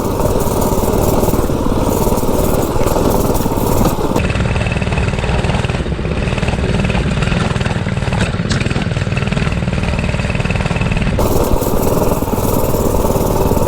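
A two-wheel drive mini bike engine climbs a bumpy dirt driveway hill, a loud close small-engine buzz running steadily throughout with shifting tone as throttle and load change, rattling faintly.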